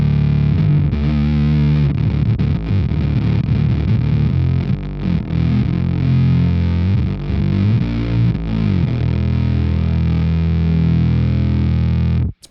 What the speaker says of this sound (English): hear what just the octave is doing with some, like, a good amount of distortion